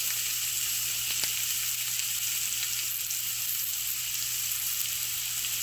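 Food searing on a hot cast iron grill, pressed down for grill marks, giving a loud, steady, close hiss and sizzle that holds unbroken throughout with no talking.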